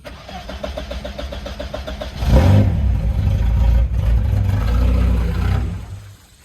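An old station wagon's engine is cranked with a rapid, rhythmic starter whir, catches and runs loudly and roughly for a few seconds, then dies away, all up close with no talking.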